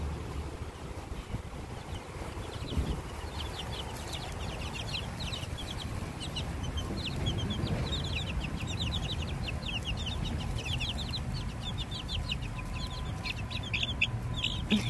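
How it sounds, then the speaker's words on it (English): Backyard chickens clucking in soft, rapid bursts of calls spread over a steady outdoor background hum, fairly faint and continuous, with no talking. "I'll give it to the chickens, but they don't seem interested in tomatoes yet."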